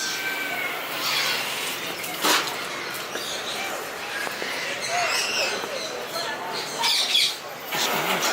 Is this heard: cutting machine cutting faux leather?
no